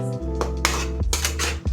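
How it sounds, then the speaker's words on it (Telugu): A utensil scraping and knocking against a pan while onions and salt are stirred for egg curry, a few short clattering strokes over a steady low hum. "ఇప్పుడు ఒకసారి కలుపుకోవాలి."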